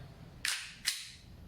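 Umarex Glock 17 Gen 4 airsoft gas blowback pistol firing two sharp, snappy shots about half a second apart, each with a quick hissing decay, close up.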